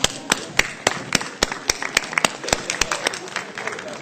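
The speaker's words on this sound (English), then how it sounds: "I'm going to give you a big round of applause." Audience applause in a city council chamber during a transit debate, heard as scattered, uneven individual claps rather than a dense ovation, fairly close and sharp, with some voices and room noise underneath.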